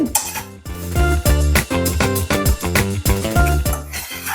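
Spices for mutton pulao dry-roasted and stirred in a pan on low heat, a rapid rhythmic scraping and clinking of a metal spoon against the pan, close and loud with no talk.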